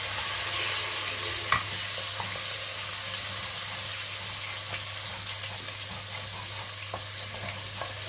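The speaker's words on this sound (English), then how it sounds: "make sure you give it a good mix so that all of the oil coats the onion" Diced onions frying in oil in a pan while being stirred, a steady close sizzle with soft scraping of the spoon and a few light clicks.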